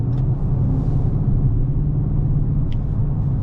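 A 2022 Dodge Charger Daytona engine rumbles low and steady while driving, a continuous deep drone with no break.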